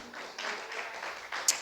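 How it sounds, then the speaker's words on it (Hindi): A church congregation claps together in a brief burst of applause, the clapping moderate and somewhat diffuse, overlapping with a preacher's voice. "ताली बजाओ जोर से एक बार"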